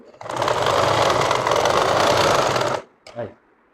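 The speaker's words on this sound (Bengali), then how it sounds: "মুড়ি সেলাই দিয়ে দিবেন" Sewing machine running a continuous stitch along the back panel of a shirt, loud and close for nearly three seconds, then stopping, followed by a brief short burst.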